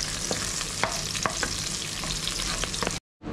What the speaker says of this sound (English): We have to stir until it becomes golden brown.